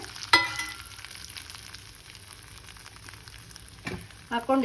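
Cumin and spices such as turmeric, salt and chili powder frying in butter in a pan for cashew paneer butter masala, a steady soft sizzle with a sharp crackle near the start and louder stirring clatter toward the end.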